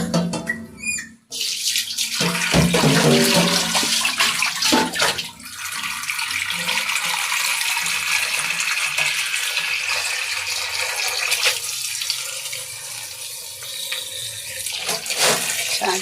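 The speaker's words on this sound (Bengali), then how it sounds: "তো শাকটা ধুয়ে নিই পরিষ্কার করে।" Tap water runs steadily into a sink while leafy greens are rinsed by hand, a continuous splashing rush with brief breaks and shifts as the leaves are moved under the stream.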